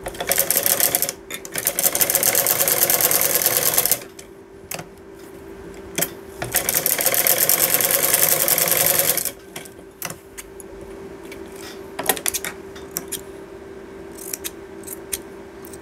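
A sewing machine stitching a fabric tassel for a sleeve runs in two long, rapid, steady bursts, close and loud, separated by pauses filled with light handling clicks.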